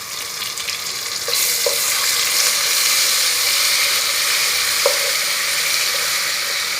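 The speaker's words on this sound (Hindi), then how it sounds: "इसको भूनेंगे थोड़ी देर" Steady, close sizzling from garlic-ginger paste frying in a hot pan with onions, with a brief stir or clink partway through and no talking.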